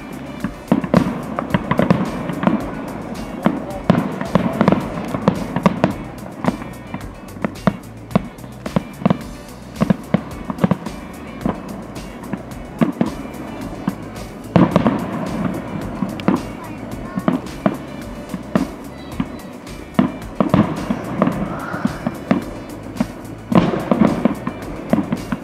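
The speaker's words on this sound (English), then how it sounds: "Fireworks are loud" Fireworks show at a fireworks warehouse event on July 3, loud repeated sharp cracks and booming bursts in irregular rapid volleys over crowd ambience, with people talking in between.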